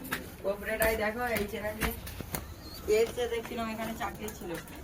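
Soft pigeon cooing from released domestic pigeons outdoors, recurring throughout under a person's voice.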